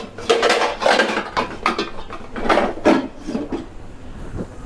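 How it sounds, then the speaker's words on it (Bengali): A lid going onto a cooking pot on a gas stove, with repeated clattering metal knocks and scrapes of pot and lid, fairly loud and close, with no talk. "এটাকে ঢেকে দিব তিন চার মিনিটের জন্য ঢাকনা দিয়ে সুন্দর করে"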